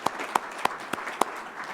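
At a Rotary club meeting, the audience gives a few sharp, evenly spaced claps, about five crisp hits in under two seconds, over a faint room background.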